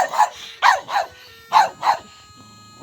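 Barking from a large Anatolian shepherd guard dog at a rural kennel with many dogs: four loud, close barks in two pairs, separated by short gaps, with a low growl or rumble near the end.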